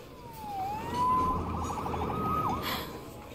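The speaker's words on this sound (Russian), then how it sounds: "Ох уж эти сирены, как они не вовремя" A police siren in Marvel's Spider-Man video game wails in rising and falling sweeps, fairly loud over a low background rumble, with no talking.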